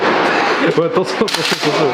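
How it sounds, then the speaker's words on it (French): Sniper rifle fired at an outdoor shooting range in Los Angeles, a sharp report with rolling echo, heard up close under excited voices talking. "elles font peur les balles de sniper frère, regarde"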